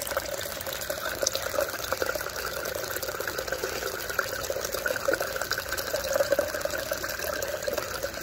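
Water runs steadily through an aquaponics U-siphon past large lava rocks in a grow bed, a continuous close trickling and gurgling flow with no voices.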